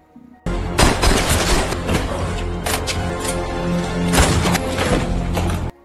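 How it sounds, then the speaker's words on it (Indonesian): Gunfire crackles during a shootout in the action film Officer Big Bet. Loud, dense bursts of shots and impacts follow one another rapidly for several seconds. "Baku tembak terjadi."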